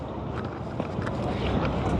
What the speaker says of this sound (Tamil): இந்த கப்பல் இப்போ இன்ஜின் ஸ்டாப் பண்ணுறேன்